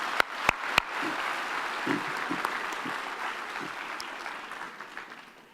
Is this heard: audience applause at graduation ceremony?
yes